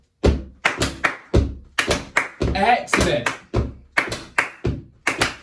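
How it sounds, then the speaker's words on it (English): Feet stamping and hand claps keep a steady Tresillo body-percussion rhythm, a run of sharp, close, evenly spaced beats played as a music lesson, with a voice briefly speaking over the pattern. "Now we're going to add a clap in."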